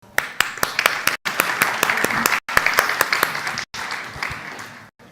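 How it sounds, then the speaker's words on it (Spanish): Audience applause at an Internet Day cybersecurity workshop comes as bursts of close hand clapping with sharp individual claps and brief gaps between bursts. "Le damos un fuerte aplauso."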